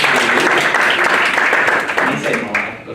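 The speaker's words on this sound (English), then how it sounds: "So a little applause for Trevor." Close, loud clapping from an audience for a volunteer named Trevor at a talk on language, a dense burst that holds steady and then begins to thin out.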